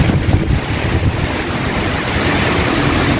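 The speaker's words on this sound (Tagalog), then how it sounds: "Grabe yung ulan dito sa amin." Heavy rain and strong wind in the Philippines produce a dense, continuous roar with wind buffeting the microphone, steady and loud throughout with no voices.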